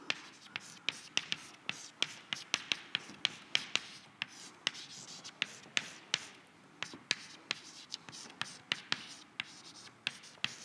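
Chalk or marker taps and strokes on a board during a university applied-mathematics lecture, a quick irregular series of sharp clicks and scratches, fairly quiet and close, with no speech.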